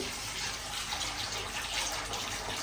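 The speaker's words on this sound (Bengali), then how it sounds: "একটু জল দিয়ে ধুয়ে নিচ্ছি আগে" Corn kernels being rinsed under running water from a tap, a steady broadband gush of water pouring continuously throughout, close and fairly even in level, with no talking.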